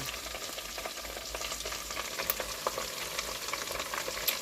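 Chicken sizzles and crackles in a pan with a steady frying hiss and occasional sharp pops. There are no voices.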